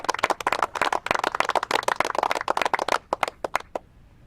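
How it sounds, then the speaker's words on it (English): A small audience at a governors' press conference in Mission, Texas, applauds National Guard and law enforcement with close, crisp clapping for about four seconds. It thins to a few scattered claps and then stops. "can we give them a round of applause too"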